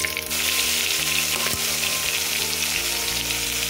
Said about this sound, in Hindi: तेल गर्म हो गया, इसमें डाल दिया जीरा, थोड़ी सी राई और ये थोड़ी सी हींग।